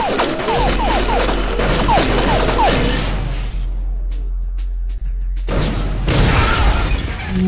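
Rapid bursts of video game gunfire crack and boom in dense, loud volleys, pause briefly in the middle, then resume at close range.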